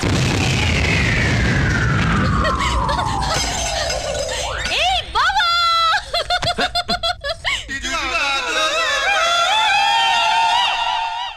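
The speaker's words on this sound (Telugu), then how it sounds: "ఫోర్నాలు బాంబుల్లా ఫేలిపోయినాయి ఏంటి?" Firecrackers go off in a Telugu action film scene: a long falling whistle, then a loud, chaotic run of sharp bangs, crackles and rising whistles that fills the rest of the clip.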